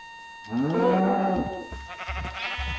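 Animals in the Minecraft video game, cows and sheep, let out a loud synthesized bleating moo with a rising, wavering tone, followed by a few softer, lower grunting calls.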